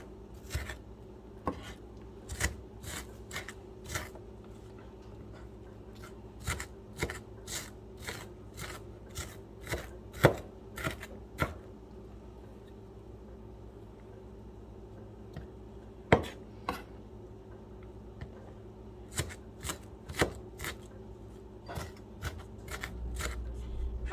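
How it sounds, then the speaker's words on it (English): A knife chops onions finely on a board for homemade salsa, giving rapid runs of crisp, close taps with short pauses between bursts. "I like to cut your onions real fine. And just keep cutting it."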